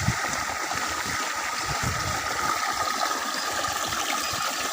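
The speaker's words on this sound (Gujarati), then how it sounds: "બોર ચાલુ કર્યો હવે ટોકું પાઇપ ઉભરાય." Water gushing from a borewell pipe and overflowing into a tank makes a steady, loud rushing and splashing that runs unbroken through the clip, close by with no voices.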